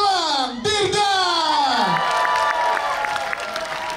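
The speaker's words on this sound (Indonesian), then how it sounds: "tepuk tangan dong untuk Gilang Dirga" A crowd at a stage show cheers for Gilang Dirga with high whooping shouts and rising and falling cries over clapping, loud and close, settling into steady applause.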